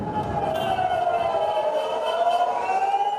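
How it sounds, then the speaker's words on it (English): Air raid sirens wail across Israel during a ballistic missile attack, a sustained slowly falling tone with a crowd murmuring underneath, steady and moderately loud throughout. "As sirens sounded across the country"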